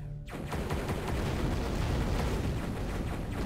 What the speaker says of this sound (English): That's all you guys have to worry about are the two turrets shooting back at you.